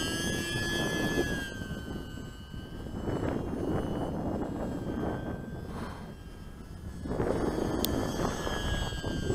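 An E-Flite UMX Timber RC model plane flies outdoors on a windy day, giving a thin, steady electric motor whine that rises and fades as it passes, under gusty wind noise with no talking.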